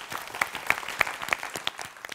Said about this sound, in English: audience, please give them a round of applause